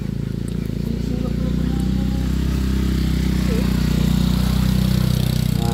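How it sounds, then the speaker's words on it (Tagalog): A small Honda XRM-style motorcycle engine runs steadily nearby in a rural Philippine setting, a continuous low idling drone with people talking over it. "Pasok motor dyan."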